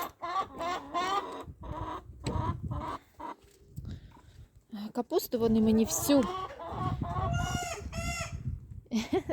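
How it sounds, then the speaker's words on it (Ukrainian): Chickens cluck nearby while a young rooster gives a few squeaky, broken crows; a person talks and laughs amid the birds. "Оце півник молоденький."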